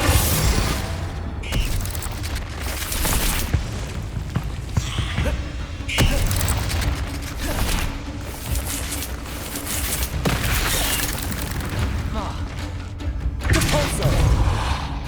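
Spell combat in the Hogwarts Legacy video game, with Confringo fire blasts: continuous dense booms, thuds and crackling impacts layered over game music, loud and busy throughout.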